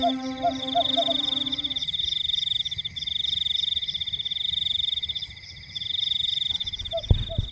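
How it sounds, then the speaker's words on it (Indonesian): A loud, steady trill of crickets chirping outdoors at night, with a few low croaks early on, carrying on with only a brief dip. "berganti dengan suara jangkrik yang terdengar nyaring dari luar rumahnya"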